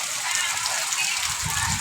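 Steady, dense hiss of heavy rain falling on surfaces in the Andaman Islands, continuous and fairly loud throughout the short stretch.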